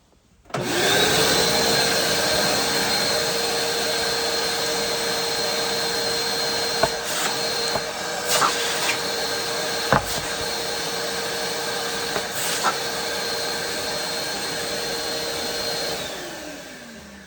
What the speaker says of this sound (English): I'll use my shop vac